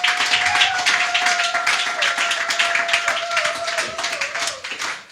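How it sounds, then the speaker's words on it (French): Church congregation clapping together in steady rhythmic applause during a worship service, dense and loud throughout, with a sustained sung or voiced tone running underneath. "Acclamons le Seigneur"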